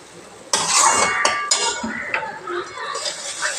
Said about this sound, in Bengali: এবার মশলা দিয়ে দেবো, মশলা দিয়ে দিলাম। এবার কষাতে থাকবো, কষানো হতে থাক।